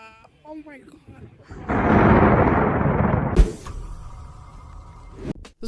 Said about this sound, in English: This is what it's like to get struck by lightning when you're in the cockpit of a plane.